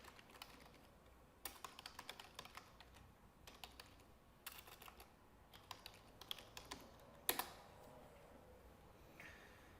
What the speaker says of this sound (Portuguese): Você vai digitar aqui o nome da sua empresa